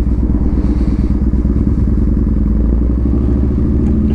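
A Yamaha Bolt motorcycle rolls along at a very slow pace, its engine chugging and lugging steadily up close with a constant loud rumble and some mechanical clatter, no talking.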